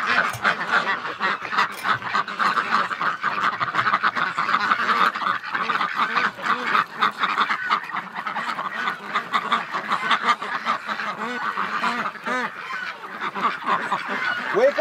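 A large flock of ducks and geese honks and quacks continuously at close range, a loud overlapping chorus of calls with no pauses.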